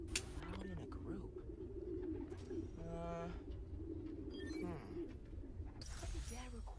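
Pigeons cooing in a city park in the video game Spider-Man: Miles Morales, a group of soft, throaty, repeated coos and warbles layered over one another, steady and close, with brief chirps and some talk in the background.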